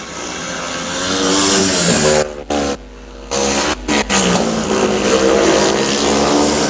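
Speedway motorcycles racing in a 1999 Knock Out Cup meeting, loud engines roaring past close by with a harsh buzzing whine, a brief drop in the middle before the high revving returns strongly.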